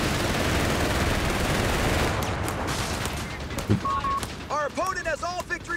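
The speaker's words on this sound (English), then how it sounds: "Were they still firing their machine gun while they were retreating?" Machine gun bursts and scattered gunfire from the strategy video game Company of Heroes 3, a dense rattling barrage that thins out, followed by brief game interface tones near the end.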